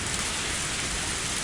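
Heavy rain falling steadily as a visual novel sound effect, a dense, even hiss of drops on surfaces with no pauses, fairly loud and alone.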